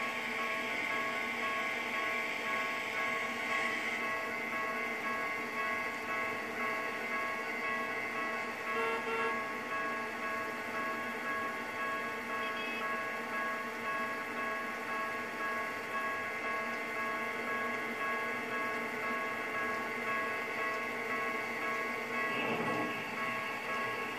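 Trains pass a Japanese level crossing in the Trainz 2 railway simulator, a steady rail rumble with sustained tonal ringing and brief accents, continuous and fairly even with no talk.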